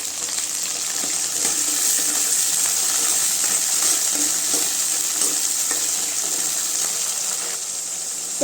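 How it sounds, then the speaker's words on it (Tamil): Vegetables sautéing in sesame oil in a pan give a steady, close sizzle that continues without a break, with faint stirring clicks underneath and no talking. "நல்ல எண்ணெயில் வதங்கட்டும்."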